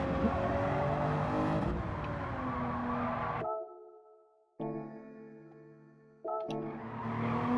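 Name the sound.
race car engine at Nürburgring GP in video game Gran Turismo 7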